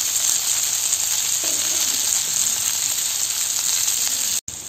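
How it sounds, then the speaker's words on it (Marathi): Fish frying in hot oil in a pan, a dense, loud, continuous sizzle close up with no talking. "आता आपण इकडे मासे तळतोय ना"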